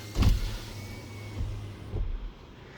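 Car power windows whir briefly with a low motor drone and a few soft thumps, close by, in a short stretch without speech.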